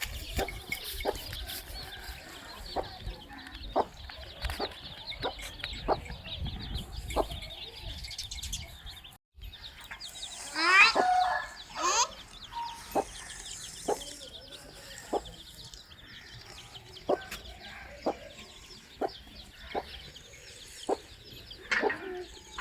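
Village chickens with their chicks, hens clucking repeatedly at close range along with scattered chirps and a brief burst of wing flapping, set against quiet outdoor background noise.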